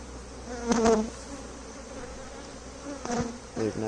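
Honeybees buzz close at an open hive, a low steady hum broken by a few louder passing buzzes as single bees fly near.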